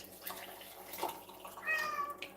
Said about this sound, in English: Will you stop meowing at me?